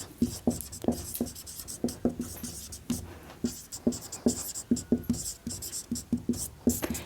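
A pen scratches out chemistry notes on paper in quick, rhythmic strokes, close and quiet, with short pauses between bursts of writing.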